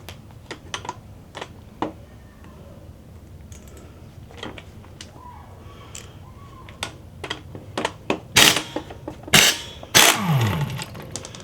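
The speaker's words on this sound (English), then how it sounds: "I'm going to remove the top bolt" Removing the top bolt of a rear strut on a 2004 Hyundai Elantra produces irregular metallic clicks and ratcheting taps, growing louder and denser toward the end with a few sharp clanks.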